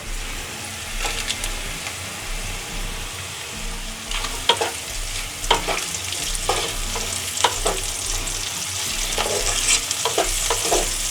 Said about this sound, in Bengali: কাঁচা লঙ্কাটাও হালকা ফ্রাই করে নেব